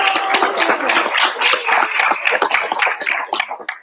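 A city council meeting audience in Chattanooga breaks into a round of applause, loud, close clapping with distinct individual claps in a busy, irregular rhythm, tapering off near the end.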